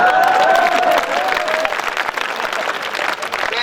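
Audience clapping at a night-time Hindi poetry recital, loud close applause that starts strong and tapers into scattered claps, with a voice audible over it briefly.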